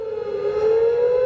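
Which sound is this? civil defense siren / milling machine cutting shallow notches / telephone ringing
civil defense siren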